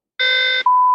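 A short censorship bleep: a buzzy tone is followed by a clean, steady high beep, loud and alone against silence, under a second in total.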